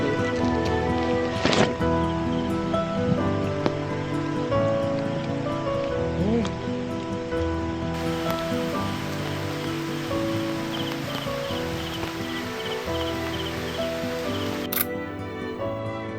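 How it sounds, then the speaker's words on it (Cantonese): Heavy rain on a forested hiking trail along the MacLehose Trail, a steady hiss of downpour on leaves and ground, with a few sharp nearby clicks and knocks over the constant wash. "特別係撞啱落雨，落大雨"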